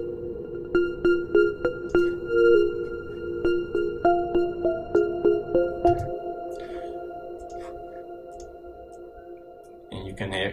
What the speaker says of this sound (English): You can hear it ringing out really long because of the feedback and the reverb.